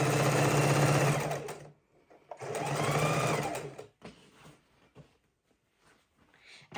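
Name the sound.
sewing machine stitching baby quilt seams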